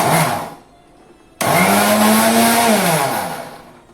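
A mixer grinder grinding wheat runs loudly, stops briefly, then starts again with a rising whine and steady grinding roar that winds down at the end.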